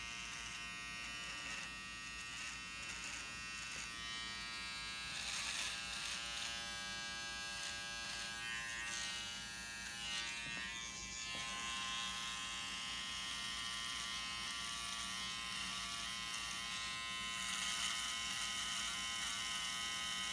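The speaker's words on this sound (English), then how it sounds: "I find by pushing the trimmer, you're going to get a nice sharp line" An electric beard trimmer buzzes steadily and up close while it is pushed along the beard line, a continuous humming drone with slight changes in pitch as it cuts.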